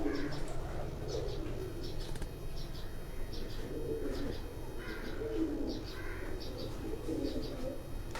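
Several pigeons coo in soft, repeated low phrases at close range, with faint chirps and an occasional wing flutter over a steady background hum.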